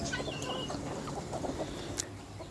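Chickens cluck softly at a farm with goats nearby, scattered short clucks over a steady faint background, fairly quiet and distant.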